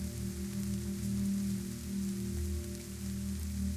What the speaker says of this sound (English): The rain keeps falling, softly, steadily while you rest.